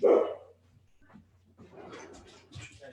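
Dogs bark indoors during a home video call, a sharp loud bark at the start followed by softer yips and whimpering barks, with a person's voice faintly underneath.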